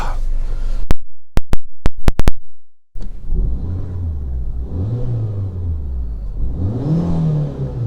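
A Fiat 500 salvage car's engine is revved in a series of sharp blips, then held at a steady, rising and falling rev, loud and close with no talking.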